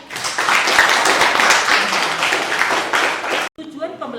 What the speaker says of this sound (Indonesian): Berikan tepuk tangan untuk Aulia.